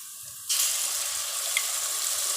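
White cumin seeds hit hot oil with onions in a pan and burst into a sudden, steady sizzling hiss that holds evenly after a quiet start, close and moderately loud.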